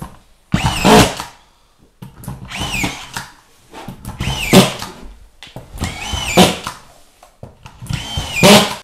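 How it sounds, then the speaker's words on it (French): A cordless electric screwdriver bores holes during an apartment renovation in five loud, evenly spaced bursts of whirring that rise in pitch, each followed by a short quiet pause. "Je fais des trous même."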